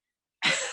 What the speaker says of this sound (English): And I want you to just make a cough happen.